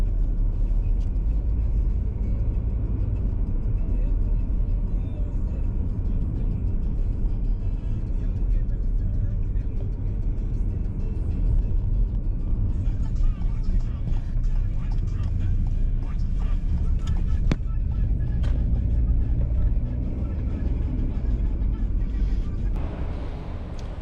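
Ford Escape rental car driving on the road, with a steady interior rumble of engine and tires throughout and a dense broadband road noise that stays constant.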